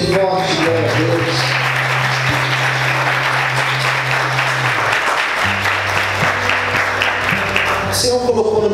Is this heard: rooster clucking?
no